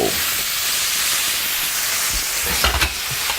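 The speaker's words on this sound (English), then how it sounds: "You put the mirepoix with it, You hear how it's sizzling?" A loud, steady sizzle of mirepoix and meat frying hard in a hot pan, with a brief scrape of stirring near the end.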